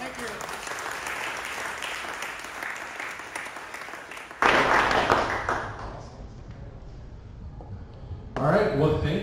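An audience applauds presenters at a tech meetup, sustained clapping from the room that swells again in two louder bursts, with brief talk underneath.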